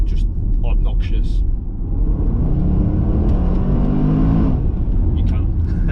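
A Range Rover V8 SVR engine revs hard with a loud, continuous rumbling roar that rises and swells toward the middle, heard close up, with occasional voices in the background.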